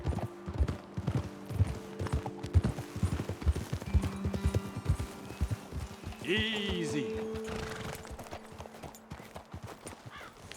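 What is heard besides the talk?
horses walking, hooves clip-clopping, in video game Red Dead Redemption 2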